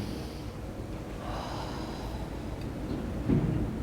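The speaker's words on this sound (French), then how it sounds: "on n'oublie pas de respirer" Children breathing through a yoga exercise, with breathy inhales and exhales over a constant rushing room noise and a stronger snort-like breath near the end.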